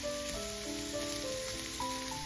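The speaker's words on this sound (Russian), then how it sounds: "Выкладываю нарезанный кабачок и обжариваю на среднем огне до появления легкой золотистой" Sliced zucchini fries in vegetable oil in a pan over medium heat, giving a steady, even sizzle under a layer of background music.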